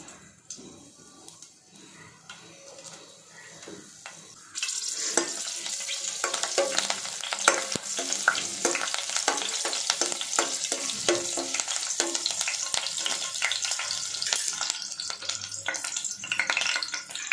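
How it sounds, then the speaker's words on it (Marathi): Slit green chillies drop into hot oil: after a quiet start, a sudden loud sizzle bursts up and keeps crackling and spitting steadily at close range, with faint stirring. "तेल गरम झाल्यावर यामध्ये आता मी उभ्या चिरून घेतलेल्या मिरची टाकत आहे।"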